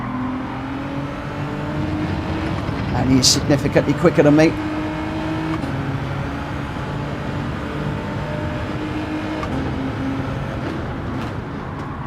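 Race car engines in Gran Turismo 7 whine and rev steadily throughout a race, with a cluster of rapid shifts or bumps near the middle, under someone talking.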